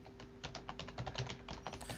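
Fingers tap on a computer keyboard, a quick, uneven run of close, light clicks at a moderate level with no talking.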